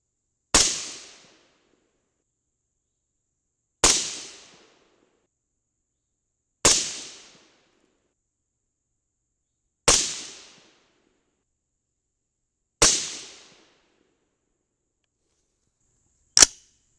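A rifle fires .223 ammunition loaded with CCI BR4 primers, producing six sharp single shots spaced a few seconds apart. Each crack is loud and close and decays quickly into silence.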